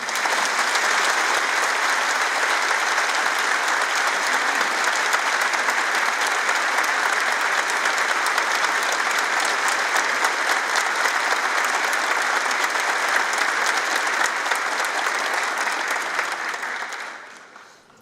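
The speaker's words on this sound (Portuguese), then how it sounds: "despedimos-nos de seus integrantes com uma salva de palmas" Sustained applause from a large audience fills a hall for a band at the opening ceremony of a national congress, loud and continuous before fading out at the end.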